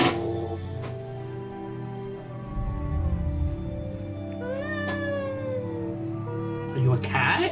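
A voice imitates a cat, drawing out whiny, rising and falling meows over a steady low background hum.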